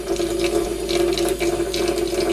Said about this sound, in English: So you can hear that kind of hammer. Not supposed to do that, and that is of course the water on at full